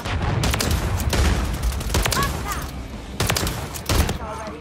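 A sentry gun fires in the Modern Warfare 3 video game: bursts of rapid automatic gunfire in irregular volleys, moderately loud over a game soundscape.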